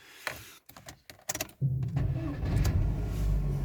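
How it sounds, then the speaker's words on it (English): Several clicks and short mechanical knocks, then a car engine cranks and catches, settling into a steady low idle close by. "I'm just going to start the car now"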